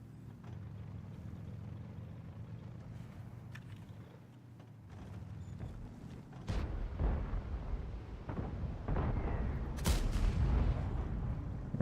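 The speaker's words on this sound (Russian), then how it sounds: "Я зря выстрелил, наверное." Tank cannon fire in a tank video game featuring the E 100 heavy tank: two loud, sharp blasts with rumbling decay, the second stronger, over steady engine and battlefield drone.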